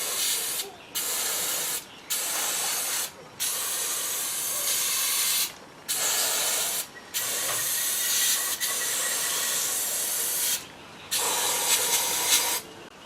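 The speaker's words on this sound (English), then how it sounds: "This is carby cleaner." Can of carburettor cleaner sprayed in repeated long bursts of steady hiss, each a second or more, separated by short silent pauses, close to the listener.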